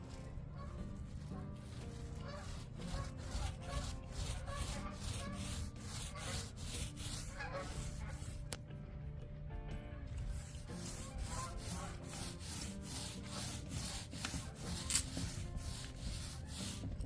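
A brush lays a heavy coat of finish onto shed wood, making steady rhythmic scrubbing strokes, close and continuous with a brief pause midway.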